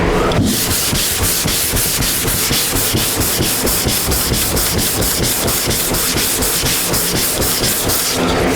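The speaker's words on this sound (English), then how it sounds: "I sanded here a little bit. I'm going to move it around." Primer on a panel is block sanded by hand, producing a loud, close, rhythmic rasping scrape from steady back-and-forth strokes, with no talking.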